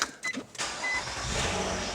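A 2017 Nissan Maxima engine cranks briefly and catches, settling into a steady idle close by, with a couple of short clicks just before.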